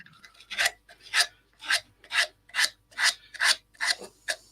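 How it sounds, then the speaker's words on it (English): Hand sanding around the edges of a wooden piece: nine steady back-and-forth rasping strokes at an even rhythm, close and clear with no talking. "I'm just going to give that a quick hand sand around the edges"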